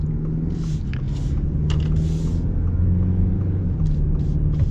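A 2024 Ford Escape ST-Line driving slowly through a parking lot, a low steady engine rumble heard from inside the cabin with faint hissy noises over it.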